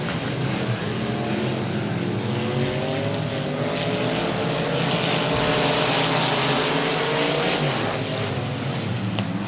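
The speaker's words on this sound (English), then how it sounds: "we are underway once again in heat race number 3 for the limited modifieds." Limited modified race cars roar around a dirt speedway oval in a heat race, a loud, dense, continuous engine drone with rising and falling revs as the pack passes.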